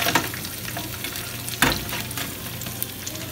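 Roasted lamb chops in a steam convection oven sizzle and fry steadily at close range, with a few brief scraping knocks as the pieces are turned over.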